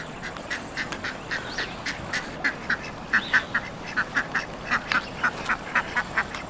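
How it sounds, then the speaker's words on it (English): Ducks quack repeatedly in a fast, regular series of loud nasal calls, fairly close, over faint outdoor background noise, on a hike at the Thousand Steps in Pennsylvania. "you just pull up and you just immediately hear the ducks"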